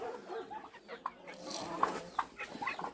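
Several chickens cluck in short, scattered bursts close by, with soft background noise and no talking.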